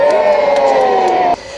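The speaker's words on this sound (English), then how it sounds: "give Carla and Ariel a nice loud cheer" A live show crowd at a sea lion presentation cheers loudly on cue, a sustained wall of shouts and whoops that holds steady for over a second, then cuts off abruptly.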